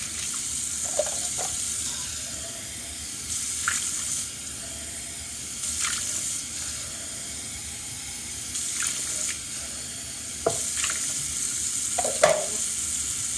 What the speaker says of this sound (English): Okay, my bubbles have not gone down all the way yet. That's how bubbly this works.